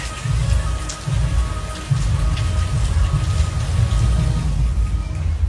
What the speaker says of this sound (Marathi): बघा तुम्ही किती किती पाऊस पडतोय